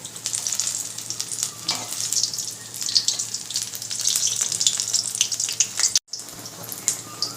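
Loud, continuous sizzling of food frying in oil, with scattered pops and crackles and a brief dropout near the end; no one speaks.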